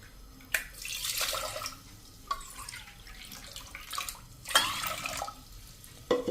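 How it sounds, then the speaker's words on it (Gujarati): Water is poured from a cup into a cooking pot for dal, heard as quiet splashes and trickles in several separate bursts with short pauses between pours. "આપણે જે કપથી દાળ લીધી હતી ને એ જ કપથી આપણે 2 કપ પાણી નાખશું"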